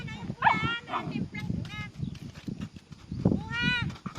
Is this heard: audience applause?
no